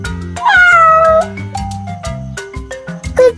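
A cat gives a loud, drawn-out meow close by, then a shorter meow at the end, with background music playing throughout.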